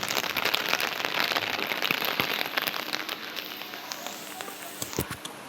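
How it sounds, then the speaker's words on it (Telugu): Heavy rain pours down steadily, a dense hiss of drops striking surfaces with scattered sharper splats throughout, close and continuous with no talk. "వర్షం మస్తు పడుతుంది ఈరోజు కుదిరింది వర్షం పడడానికి."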